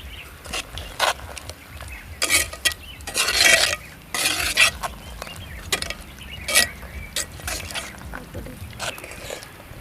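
Gongura chicken curry stirred in a pot outdoors on a hill, a spoon scraping and clanking in irregular bursts against the pot under a low background sizzle.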